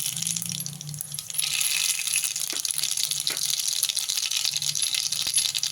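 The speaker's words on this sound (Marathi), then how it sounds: "मोहरी तडतडली की आपली जिरा जातील" Mustard seeds crackle and pop in hot oil in a pan, a dense steady spitting sizzle that rises after the first second and continues close and loud to the end.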